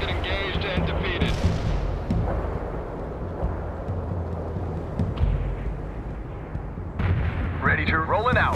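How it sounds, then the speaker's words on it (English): Mortar strike explosions in the World in Conflict war video game, a continuous loud battle roar of blasts and rumbling booms with heavy low rumble, under radio-style voice chatter. "Mortar strike completed."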